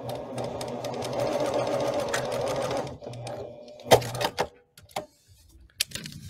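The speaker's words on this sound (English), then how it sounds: "I'm just gonna sew that again really quick" A sewing machine runs steadily while stitching quilt fabric for about three seconds, then stops, followed by a few clicks and handling noises, close and clear.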